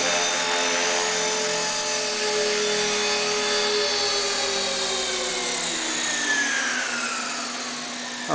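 A Blade CP radio-controlled helicopter hovers close by with a steady, loud rotor whine and motor hum, pitch gliding slightly as it settles down for a gentle landing.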